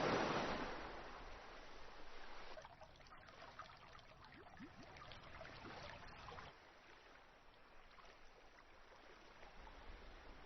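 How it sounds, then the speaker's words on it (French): Tide waves roll onto a mangrove-lined shore, a faint wash of surf with a louder surge at the start, then softer rushing and trickling water that keeps going without a break. "La marée, arrêtée par le rivage, produit des vagues successives et interminables."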